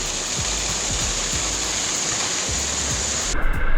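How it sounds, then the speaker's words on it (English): A waterfall in Hawaii pours in a loud, steady, close rush of water that cuts off abruptly near the end. "I like this waterfall even more."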